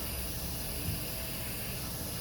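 A steady airbrush hiss runs continuously while a second layer of colour is sprayed onto an obsidian art piece, a soft even airy stream with no pauses.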